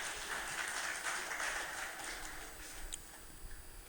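A gathered audience at a Shrimad Bhagwat Katha applauds, a soft rush of many hands heard at a distance that thins and fades over a few seconds.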